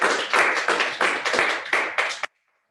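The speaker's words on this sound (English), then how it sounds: "So a round of applause to all of you." A small group claps at an online meeting in a short burst of about seven quick, close clap pulses, then stops abruptly.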